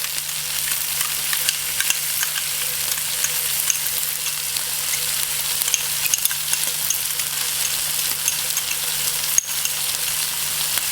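Sauce hitting a very hot pan of Mongolian beef stir fry gives a constant, bright crackling sizzle that runs loud and unbroken, with a single sharp clank near the end and no talk.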